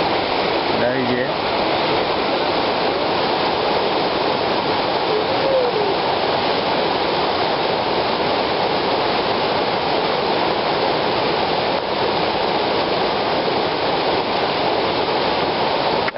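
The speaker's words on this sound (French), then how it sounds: "Ici, ben, la rivière." A river rushes beneath a cable suspension footbridge with wooden planks, a loud steady roar of flowing water filling the whole scene without pause.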